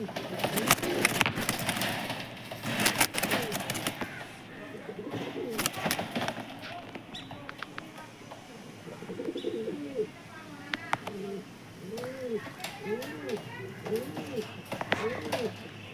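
A pair of Star Kalanka pigeons coo in low, repeated rolling calls, close by amid clicks and knocks, with a person talking over them for much of the time.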